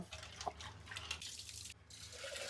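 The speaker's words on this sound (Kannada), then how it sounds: "ಸೊ ಇವಾಗ ಇದನ್ನ ನೀಟಾಗಿ ತೊಳ್ಕೊಳ್ಳೋಣ" Toor dal being washed in water in a home kitchen, soft splashing and dripping with a small trickle, close and quiet, brief and without talk.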